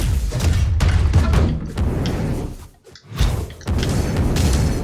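Heavy booms and thuds from a cannon weapon in Brawlhalla ranked 1v1 combat, loud and repeated, with a brief lull midway before the blasts resume.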